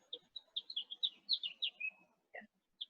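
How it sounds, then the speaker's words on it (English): Small birds chirp and trill in a garden, a quick run of bright, high tweets and short warbles, then a pause and a few isolated calls, fairly faint against a quiet background. "you had the birds chirping in your background"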